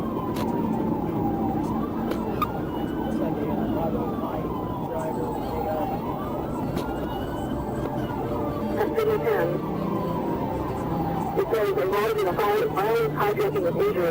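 A wailing police siren rises and falls repeatedly over steady road and engine noise, with a burst of rapid yelping toward the end.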